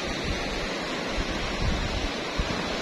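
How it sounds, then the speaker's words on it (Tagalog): Ocean surf washing steadily onto the shore in the Cayman Islands, a constant broad rush of water with soft swells, no voices. "Ang sarap ng tunog ng alon. Sarap pakinggan."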